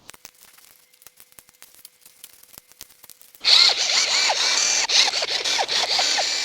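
Loud, steady power-tool whir of an impact wrench on 10 mm sump bolts of a VW GTI engine, starting abruptly after quiet tapping and running continuously with brief pulses near the end.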